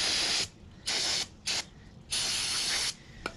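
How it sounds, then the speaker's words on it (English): Brake cleaner sprayed onto corroded clutch parts of a 2016 Harley-Davidson Street Glide FLHXS in four close, loud hissing bursts of varying length, each cutting off sharply, with a faint click near the end. "We're gonna brake clean it."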